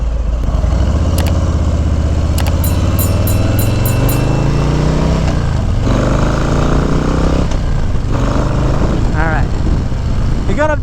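A 2021 Harley-Davidson Low Rider S cruiser with a Stage 2 upgrade accelerates on a test ride, its engine droning loud and continuous as the pitch climbs and shifts, with wind rush throughout.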